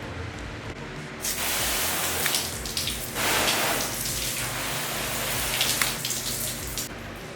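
Water spraying over Seibon carbon fiber hood and trunk parts for a 2015+ Subaru WRX, a steady close hiss of spray and splashing that swells and eases over several seconds, with no talking.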